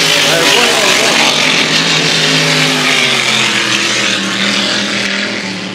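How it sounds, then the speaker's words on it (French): Vintage Grand Prix racing boats at full throttle at the Valleyfield regatta give a loud, continuous engine roar that stays steady and close before easing off slightly at the end. "d'embarcations de type Grand Prix. Et on n'hésite pas à ouvrir les gaz de très, très fort."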